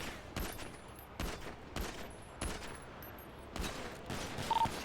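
Gunfire bursts out several times during a GTA 5 NoPixel police roleplay shootout, five or six sharp shots spaced roughly half a second to a second apart over steady background noise, with no talk.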